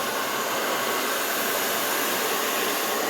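Steady broadband rush of a hair dryer on a cool setting, blowing continuously and fairly loud with no pauses, during round-brush blow drying of curled hair.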